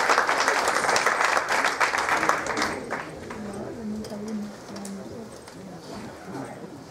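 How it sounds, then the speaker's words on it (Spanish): Applause from the crowd at a Central American Independence celebration in Queens, New York, loud and dense for about three seconds, then thinning out with voices and chatter carrying on beneath. "ya, por favor, un fuerte aplauso."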